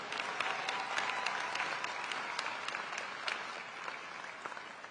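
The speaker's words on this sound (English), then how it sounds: "please give them a warm round of applause for such a quick turnaround." Steady applause from a large crowd at a university commencement ceremony, dense clapping sustained throughout without pause.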